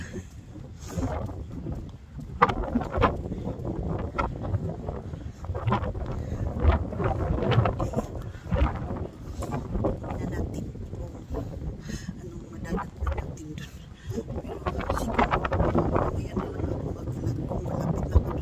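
Strong wind blows at the sea, gusting in broadband roars with wave noise and buffeting on the microphone; a voice talks over it.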